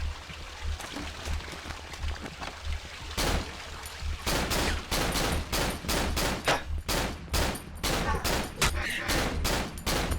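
Rapid gunfire in the horror video game Cry of Fear, a dense fusillade of sharp shots fired in quick bursts, loud and close, with a low rumbling background throughout.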